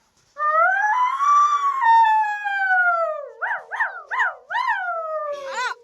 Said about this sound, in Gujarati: એક બાજુ ઠંડી પડે છે ને આ કૂતરો બોલ બોલ કરી છે